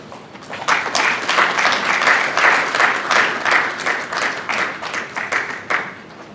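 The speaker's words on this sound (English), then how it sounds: "In Nigeria, clapping is not a problem," A large audience at the Africa Energy Summit in Nigeria claps for an arriving dignitary, loud, dense clapping that swells and pulses steadily for over six seconds.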